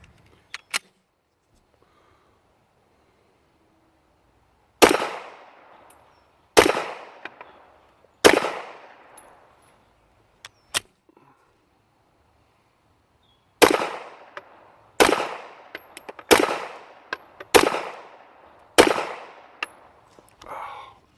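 Sharp gunshots from a Smith & Wesson EZ Shield 9mm pistol ring out outdoors, with one shot, a pause, then two more, and after a longer gap a quick string of about seven shots, each followed by a short echo.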